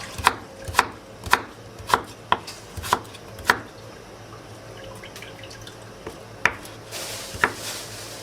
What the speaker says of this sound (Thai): เดี๋ยวเราจะหั่นกันนะคะ